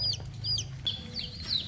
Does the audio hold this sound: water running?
no